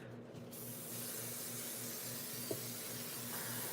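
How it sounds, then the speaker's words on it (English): Hairspray hisses steadily from a can onto a craft piece in one continuous, fairly quiet spray close by, with a small click partway through. "Let's go ahead and spray this one."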